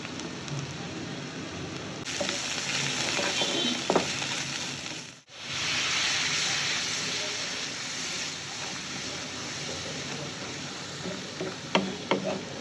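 Ginger, garlic and ground dry chili, coriander and turmeric sizzle steadily in hot oil for a Bengali fish curry with potato and ridge gourd, a dense continuous hiss broken by a brief dip, with a few clinks near the end.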